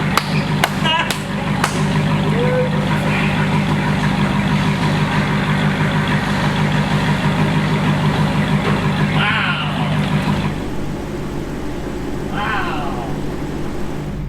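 A 2020 Dodge Challenger Hellcat, rated around 681 horsepower, runs on a chassis dyno with a loud, steady, close engine roar that holds throughout, easing slightly near the end, while people talk faintly nearby.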